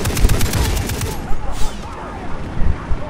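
Rapid bursts of a mounted gun firing in Far Cry 3, loud close shots in quick volleys with a short pause between them, followed by fading echoes.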